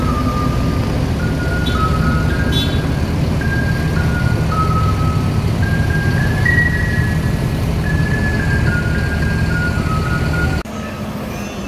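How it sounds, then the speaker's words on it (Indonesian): An ANS intercity bus pulling away from the Solok Airport terminal, a loud steady engine drone with a series of stepped electronic tones sounding over it, cutting to a quieter hum near the end. "ANS Si Bungsu meninggalkan Terminal Bandara Solok menuju perantauan Jakarta dan sekitarnya."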